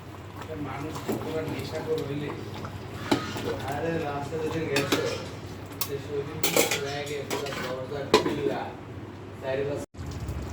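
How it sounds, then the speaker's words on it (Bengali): Spoon scraping and clinking against a pot as a chicken roast is stirred on the stove, with irregular metallic knocks over steady background hum and a voice talking throughout. "নাড়া দিচ্ছি রোস্টটা।"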